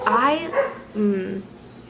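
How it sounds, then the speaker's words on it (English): Dogs barking somewhere off-camera, heard as two short bursts of bright, yelping barks with a brief pause between them, fairly clear and close. "do you hear those dogs?"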